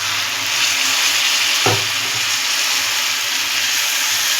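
A vegetable mixture sizzles steadily in a hot pan, and a brief splash of water near the middle briefly intensifies the hiss. No voices are heard.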